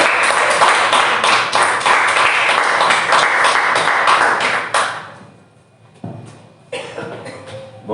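A church congregation at a Sunday family service claps for the Lord in a loud, dense burst that holds steady, then fades out into a few scattered claps and taps.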